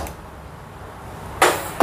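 A gas stove burner is switched on in a home kitchen during dhokla preparation, heard as a sharp burst of ignition hiss followed by a second brief click-whoosh a moment later, over quiet room tone.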